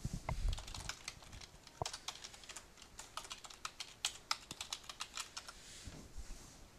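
Keys clatter on a computer keyboard during spreadsheet data entry, a steady run of quick, close clicks with uneven pauses and no talking.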